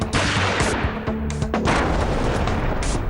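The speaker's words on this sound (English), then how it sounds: "There were gunshots," Gunfire during deadly mob violence in Mathura comes as dense, continuous cracks and booms, loud and close, with no talk over them.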